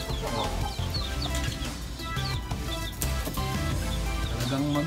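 Two six-month-old Sweater Escolin line gamefowl roosters cluck and chatter repeatedly at close range, overlapping in a busy, fairly loud stream of bird calls set against steady background noise.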